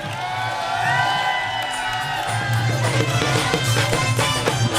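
Crowd at a live jagran devotional gathering cheering and shouting, a dense sustained roar of many voices with rising energy and rhythmic bursts toward the end.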